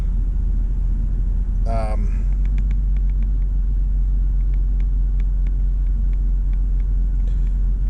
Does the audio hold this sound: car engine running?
yes